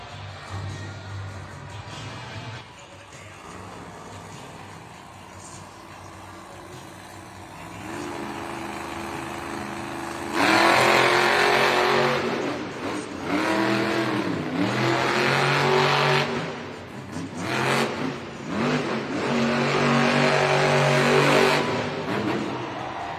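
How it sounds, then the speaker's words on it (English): At a Monster Jam arena event in Raleigh, the black and green Grave Digger monster truck engine rumbles, then surges into loud, rising and falling revs over constant crowd and arena noise. "Moving on to the black and green wrecking machine, Weston Anderson, Grave Digger"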